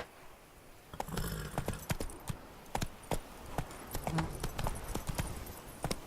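Roach the horse trots in The Witcher 3, hooves striking in a steady, crisp clip-clop rhythm that stays close and fairly loud throughout.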